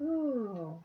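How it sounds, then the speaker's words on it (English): A house cat gives one drawn-out, gliding meow close by, loud at first and then fading; a person's brief exclamation is heard. "That's my cat."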